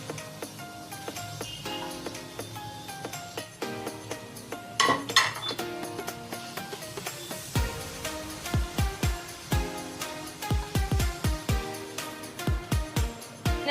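Curdled milk is stirred with ghee in a metal pan while making kalakand. A spoon scrapes and clinks against the pan in steady, fairly close strokes, growing sharper and more rhythmic in the second half.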